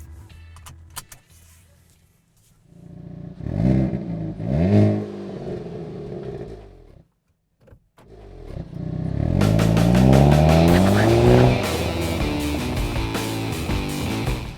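A 2023 Hyundai Kona N engine revs and burbles through the exhaust, falls briefly silent, then picks up again with strong acceleration and steady driving noise.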